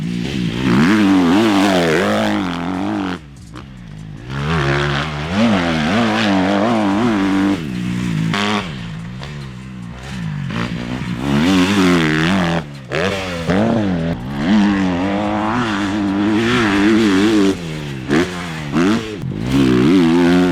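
A 2025 Kawasaki KX250 dirt bike ridden on a motocross track, its engine loud and near, revving up and down in rising and falling wails with brief throttle cuts throughout.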